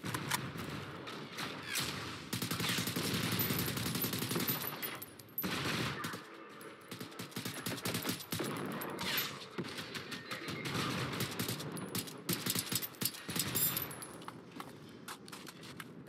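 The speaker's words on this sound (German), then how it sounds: "Was war das für ein Schuss, Alter?" Gunfire in the video game Generation Zero, rapid bursts of automatic shots and fusillades, fairly quiet and scattered across the stretch, with sharp clicks and clatter in between.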